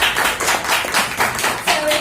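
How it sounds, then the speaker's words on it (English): A crowd applauds the parents of young speakers at a youth talk event, with loud, dense clapping in uneven surges and a faint voice or two mixed in. "Please give them all a round of applause."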